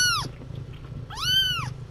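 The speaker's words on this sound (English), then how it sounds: "the kittens are going wild." Two high, wavering kitten meows sound up close, one short and one longer, over a steady low background hum, with no talking.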